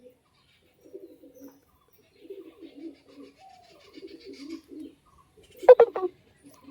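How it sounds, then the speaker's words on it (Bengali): Pigeons coo in soft, low, repeated bursts, male and female Kalsira pigeons, with a louder, sharper burst of sound close by near the end. "আর এটা দেখাচ্ছি এটা হচ্ছে মাদি পায়রা"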